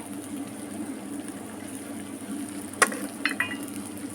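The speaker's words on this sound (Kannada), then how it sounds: "ಇವಾಗ ಈರುಳ್ಳಿ ಫ್ರೈ ಆಯಿತು ಇದಕ್ಕೆ ಸ್ವಲ್ಪ ಮೆಣಸಿನ ಹಿಟ್ಟು ಆಮೇಲೆ ಹಳದಿ ಹಿಟ್ಟು ಹಾಕಿದೆ" Onions frying in a pan with chili powder and turmeric give a soft, steady sizzle throughout, broken near the end by a few sharp metallic clinks of a utensil against the pan.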